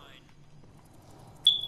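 An alarm going off in World War Z, a high electronic tone that briefly fades at the start, then returns sharply and loudly near the end over a quiet background.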